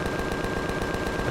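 Rapid continuous minigun turret fire from a vehicle in the space survival game Empyrion, a dense, steady stream of shots filling the whole moment with no pauses.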